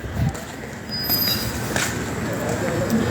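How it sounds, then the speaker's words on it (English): A Southern class 378 train arrives at Watford Junction station, with a low rumble, bright wheel squeal and rail noise building across the platform. "And here comes my train."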